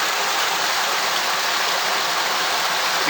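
Water rushes steadily down Blakeburn Creek near a waterfall, a dense, close, unbroken hiss and roar with no voices.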